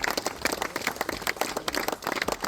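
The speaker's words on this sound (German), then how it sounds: "Ein riesen Applaus" Audience applause at a turbo kart race award ceremony in Wohlen, a dense burst of many hands clapping, steady and lively throughout with no voices over it.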